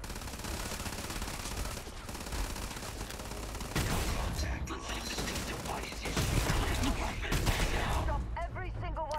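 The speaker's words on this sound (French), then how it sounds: "le truc du fusil à pompe là, que j'utilise, la blague, oh mon dieu, c'est que ça tire des balles, c'est pas de la chevrotine" A pump-action shotgun firing slugs in Starfield: a few sharp, heavy blasts stand out amid clanking mechanical handling and steady game noise, close and loud, with someone talking over parts of it.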